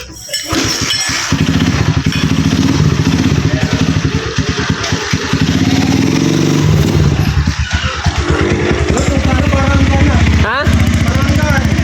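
A motorcycle tricycle, just given a wheel alignment, revs and pulls away on a test ride with a loud, close, rapidly pulsing single-cylinder putter that varies as it drives, while people talk and laugh nearby.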